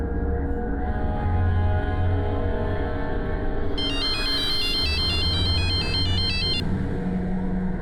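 A mobile phone ringtone plays a repeating electronic melody over the steady hum of a car interior, loud and close, with no one speaking.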